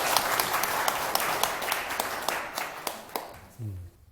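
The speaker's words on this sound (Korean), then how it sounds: "박수 한번 치세요." An audience at a talk claps in a short burst, with sharp individual claps standing out at first, then thinning and fading. A voice briefly sounds at the end.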